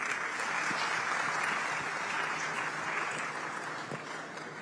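Steady audience applause at a plenary session of a diaspora conference, a continuous even patter of many hands that eases slightly toward the end.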